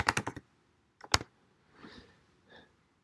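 Quick bursts of computer-keyboard typing, a rapid cluster of clicks followed by a few more keystrokes, close and quiet, with no talking.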